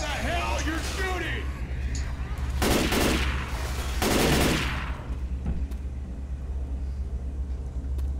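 Video game gunfire in a zombie horde shooter, bursts of shots around the three- and four-second marks over a steady low rumble, with voices talking at times.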